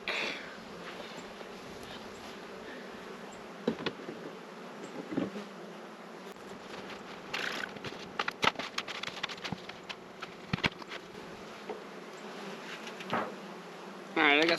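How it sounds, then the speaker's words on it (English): Curious honeybees buzzing around an open hive on a pallet during feeding, a constant close drone with occasional louder passes near the ear and light handling knocks. "I got some really curious bees"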